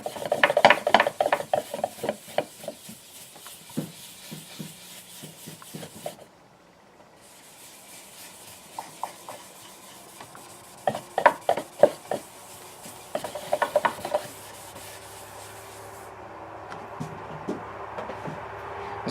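Rag wiping across a wooden guitar back after a dowel is set, giving repeated short rubbing strokes in bursts, fairly close and moderately loud, with quieter pauses between passes.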